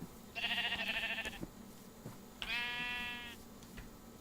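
Two loud bleats from pink sheep in the Minecraft video game, one after another with a short pause between, heard alone without talk.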